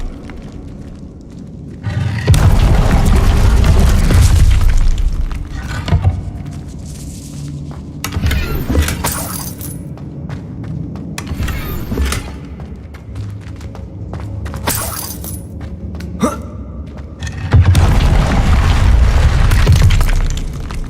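The Confringo fire spell in Hogwarts Legacy detonates in loud, booming blasts with shattering debris and rumbling roars, several heavy bursts spread across the stretch with quieter crackling and thuds between them.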